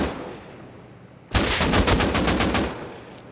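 Close-range hip-fire automatic gunshots in the video game Rust ring out in a rapid burst of about ten sharp cracks after a quiet start, loud and alone, with a fading tail.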